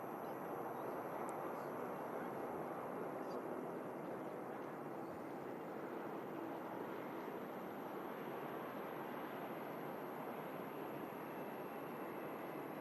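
Airliner taxiing in to stand at Manchester Airport, a faint, distant, steady engine roar and broadband hiss that continues unchanged the whole time.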